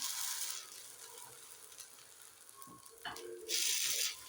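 Banana paniyaram sizzling and frying in oil in a paniyaram pan, a steady crackle with louder bursts at the start and end as the pieces are turned over, with a few faint clinks.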